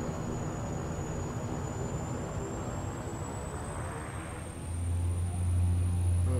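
A Saab 340B turboprop in X-Plane 11 begins its takeoff roll, a steady engine drone with a thin rising whine that builds and deepens as power comes up, loud and unbroken with no talk.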